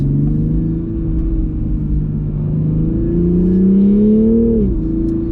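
A Toyota Supra engine, a 2021 model, hums steadily while the car turns, its pitch rising and then dipping near the end. The sound is continuous and close, with no one talking.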